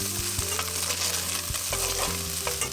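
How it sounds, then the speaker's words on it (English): Bacon browns in a large skillet over medium-high heat, crackling and sizzling continuously while a spoon stirs it, with background music playing and no voices. "Add the bacon to a large skillet over medium-high heat and brown the bacon, stirring frequently until almost crisp."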